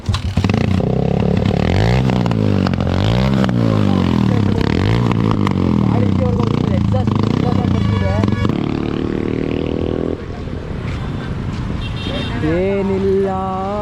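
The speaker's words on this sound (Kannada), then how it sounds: "ಸೊ ಎಕ್ಸಾಸ್ಟ್ ನೋಟ್ ಕೇಳಿಸ್ಕೊಳ್ಳಿ ಹೆಂಗೆ ಇವಾಗ." A modified Suzuki Fiero motorcycle revs its exhaust repeatedly in rising and falling bursts, loud and close, before settling to a rough idle.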